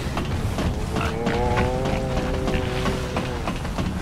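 A pig monster in the video game Bloodborne lets out a drawn-out, droning bellow over a rumbling game background.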